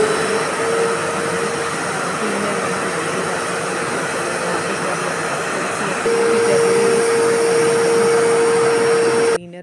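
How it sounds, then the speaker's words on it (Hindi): A vacuum cleaner runs steadily over a floor mat in a home, a loud, continuous whooshing drone whose pitch shifts slightly partway through before cutting off abruptly at the end. "झाड़ एक साइड पे इकट्ठा कर देती हूँ फिर उसके बाद वैक्यूम कर लेती हूँ"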